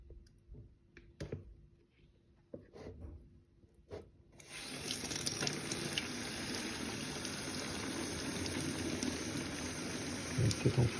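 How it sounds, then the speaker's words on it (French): Water from a tap runs into a 5 litre bottle, a steady rushing and gurgling fill starting after a few scattered clicks and handling knocks, continuing loudly to the end. "Allez, on remplit la bouteille de 5 litres."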